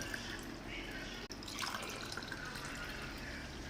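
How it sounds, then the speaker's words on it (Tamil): Amla juice sweetened with honey pours into a glass as a steady liquid trickle and splash, close up, running throughout with no speech. "இப்போ நம்ம கிளாஸில் ஊற்றிக்கலாம்."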